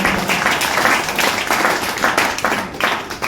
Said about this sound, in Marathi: जोरदार टाळी झाली पाहिजे त्याच्यामुळे